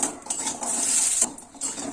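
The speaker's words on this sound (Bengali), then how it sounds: "এই যে বড়িটা আমার আর একটু ভেজে নিই লাল লাল করে ভাজবো বড়িটা" Urad dal bori frying in a pan for a drumstick flower ghonto, a steady bright hiss of hot oil broken by clinks and scrapes of a spatula against the pan, with no voices.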